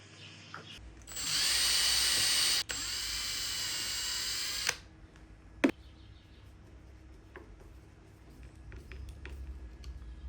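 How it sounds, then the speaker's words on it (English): A cordless drill drives a screw into wood on a hidden-magnet knife rack, a loud whirring burst of about three and a half seconds with a brief pause, then a sharp knock and quiet handling noises. "we can screw that in now"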